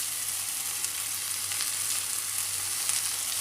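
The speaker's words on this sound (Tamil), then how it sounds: "இந்த தக்காளி, வெங்காயம் சீக்கிரமாக வதங்கிறதுக்கு ஒரு பிஞ்சு உப்பு ஆட் பண்ணிக்கலாம்." Steady, even sizzling of onions and tomatoes sautéing in a pan with a pinch of salt while making idli upma, a constant close frying hiss with no talking.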